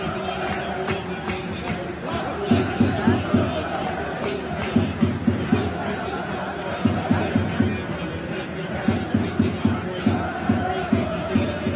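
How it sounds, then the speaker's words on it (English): Large crowd at a Bradford City football match in a stadium, a broad murmur of fans with repeated rhythmic bursts of chanting and clapping, a voice speaking over it. "Part of a record-breaking crowd for this game"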